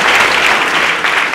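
Congregation at a church gathering applauding, a loud dense wash of clapping from many hands, steady and close throughout.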